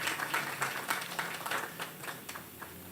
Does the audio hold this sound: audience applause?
yes